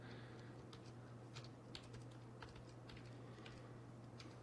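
Typing on a new computer keyboard, a quiet run of irregular key clicks with occasional louder taps, set against a steady low electrical hum and room noise, with no talking.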